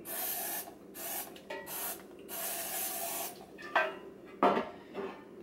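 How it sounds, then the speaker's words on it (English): An aerosol can of cooking oil sprays into metal bread pans in several hissing bursts, close and fairly loud, separated by brief pauses and light clinks of metal. "I'm going to start by spraying the bread pans."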